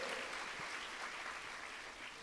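Congregation in a church service clapping strongly together, a continuous even roar of many hands with no talk over it.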